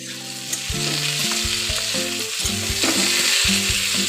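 Beans, potatoes and brinjal sizzle in a hot pan while a spatula stirs them, giving a continuous close frying hiss broken by regular scraping and clinking strokes, with no speech.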